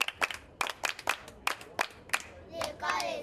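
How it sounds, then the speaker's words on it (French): An audience at a school event claps in a series of distinct bursts, a few crisp hand claps at a time, then settles into denser continuous applause toward the end. "Le bravo, on applaudit."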